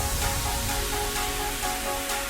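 A build-up drum pattern for a 2016 NCS-style electronic track plays alone, with dense noisy hits repeating at a steady rhythm over a busy, washy texture.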